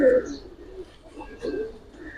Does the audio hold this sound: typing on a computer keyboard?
no